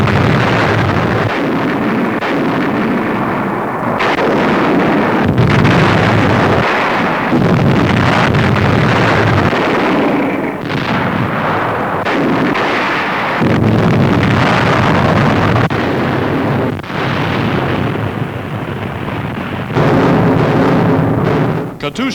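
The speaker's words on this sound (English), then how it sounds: "Russian heavy artillery bombards Novorossiysk for 4 days and nights" Heavy artillery pounds the city of Novorossiysk in archival WWII newsreel footage, a loud, continuous roar of distant blasts and rumbling bombardment with no voices.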